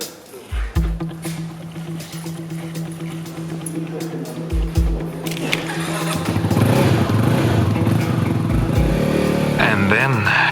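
New motorcycles on an adventure tour setting off for their first meters, with engines idling and then revving up into a louder, sustained roar, close by, with voices partly over them.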